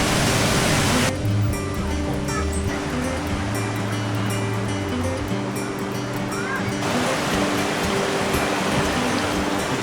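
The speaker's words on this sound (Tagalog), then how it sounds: "Dito na tayo guys, may Palawan River." Flowing water of the Palawan River in Libona, Bukidnon, a steady loud broadband rush like surf or a waterfall, continuous throughout with a faint low engine-like hum underneath.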